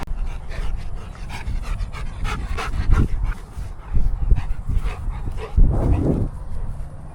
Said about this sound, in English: The doggos running around this little dog pen they got so the dogs can get some energy out.